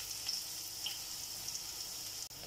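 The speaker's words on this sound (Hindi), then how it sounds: "ये हम हलीम के लिए तड़का तैयार कर रहे हैं।" Steady, bright sizzling of cumin and spices tempering in hot oil for haleem, continuous and close, with a brief dip near the end and no talking.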